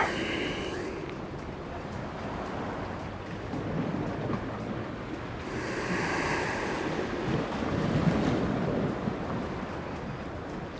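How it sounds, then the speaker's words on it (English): Ocean waves roll and wash steadily with gusty wind noise, a continuous surf texture that swells and eases without pause across the whole stretch. "or the sound of the ocean."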